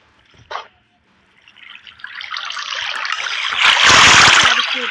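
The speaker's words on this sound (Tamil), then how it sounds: "தண்ணி வந்துக்கிட்டே இருக்கு." Flowing water in the Minecraft video game: after a brief early splash, a rushing, splashing stream swells up and grows steadily louder, continuing as a dense watery hiss.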